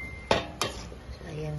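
A utensil clanks sharply twice against a small frying pan while sautéed chayote is stirred, followed by quieter scraping and a faint background hum, close up.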